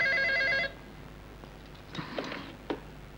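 A telephone bell rings in a Bangla movie scene, a bright trilling burst for about half a second, followed by quieter handling clicks and thumps.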